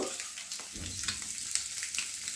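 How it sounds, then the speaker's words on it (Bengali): Eggs fry in butter in a pan, giving a close, continuous crackling sizzle with small pops throughout. "ফ্লিপ করে দেবো, যাতে ডিমের অপোজিট সাইডটাও বাটারে টোস্টেড হয়"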